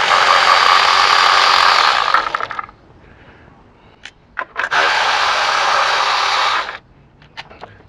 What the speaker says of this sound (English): let's get the spark plugs out